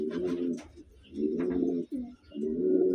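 Three deep, rolling pigeon coos in a row, each lasting about half a second with short pauses between, close and clear.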